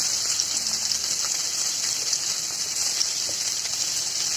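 Green chilies and ginger fry in hot oil in a Bengali home kitchen, giving a steady, close, even sizzle that holds without a break and has no talking over it.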